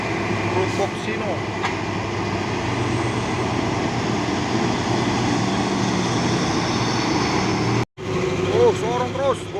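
A Hino 500 truck from Bonajaya Transport grinds uphill on a steep road climb, its steady diesel drone loud and continuous, with a brief dropout near the end and voices talking over it.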